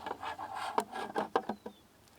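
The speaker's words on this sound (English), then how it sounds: "So you're going to take that roof and just slide it down" The plastic roof of a NETVUE Birdfy solar camera smart bird feeder slides down into place with close, dry rubbing scrapes and a few sharp knocks, heard alone.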